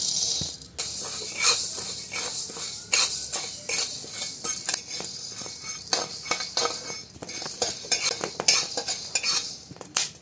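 Wheat grains roasting in a dry pan in a home kitchen, giving close, busy crackles and popping ticks with a spoon scraping and stirring through them in irregular bursts, no voices.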